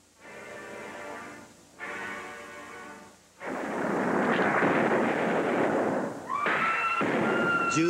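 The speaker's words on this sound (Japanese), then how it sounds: "銃声三発" Three loud gunshot blasts ring out one after another in the climactic one-against-three duel of the classic western Stagecoach, each a sharp crack followed by a long reverberating boom, the last overlaid by a high ringing tone.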